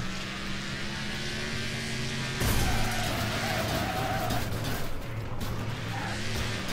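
Muscle cars grinding and scraping through a crash and rollover in the racing game Wreckfest, a loud continuous engine roar giving way to a sudden harsh burst of impact noise and tumbling metal for several seconds.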